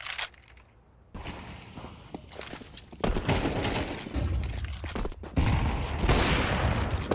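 Rapid bursts of gunfire ring out in a Counter-Strike 2 match, sharp cracks and rattling volleys with short pauses between them, growing louder and denser toward the end.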